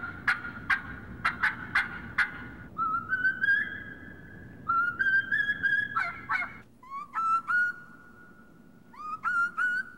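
A contestant at a turkey-calling contest imitates wild turkey hen calls, voicing sharp repeated yelps and clucks followed by short series of higher whistled notes, fairly close and clear, with a quiet room behind.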